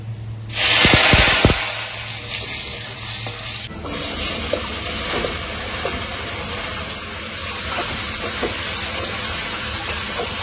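Whole cumin seeds tipped into hot oil, a sudden loud hissing burst that settles into a steady close crackling sizzle with occasional pops, continuing for several seconds.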